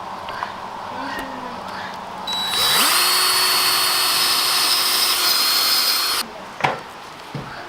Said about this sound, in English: Now we're gonna drill a hole.